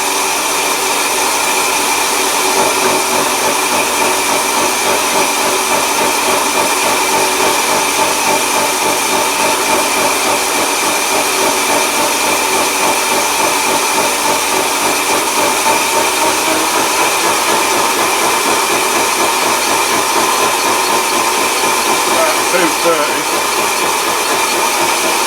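A metal lathe running slowly at about 200 revs in a workshop, giving a loud, constant mechanical whir and hum that stays steady without pauses, with faint speech now and then.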